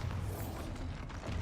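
Bombarda spell explosion in the video game Hogwarts Legacy, a short, dense low rumbling blast that stays loud across its brief length.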